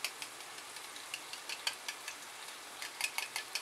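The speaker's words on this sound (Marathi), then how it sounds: "हे चांगलं हलवून" Dahi bhindi, okra with homemade yogurt in a pan over very low heat, being stirred with a spoon: faint soft sizzle with a series of light, regular scraping taps, no voices.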